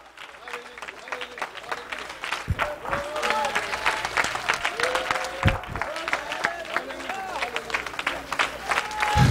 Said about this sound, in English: Come on, clap your hands to the Lord right now.